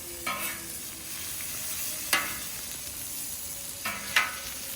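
Smash burgers sizzling in a hot pan as they are flipped, a steady frying hiss broken by a few sharp scraping clatters from the spatula, close and fairly loud with no talking.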